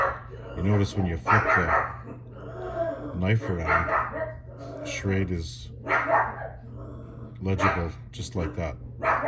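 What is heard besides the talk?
dogs barking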